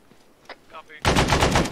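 Gunfire in the military shooter Arma 3 during a Vietnam operation: a few faint sounds, then a loud, close burst of rapid automatic fire for most of a second, with no talking.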